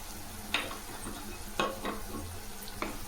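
Chopped green chillies and mint sauté in a hot pan with a soft background sizzle, broken by a few sharp scrapes and clinks as a spoon stirs them now and then.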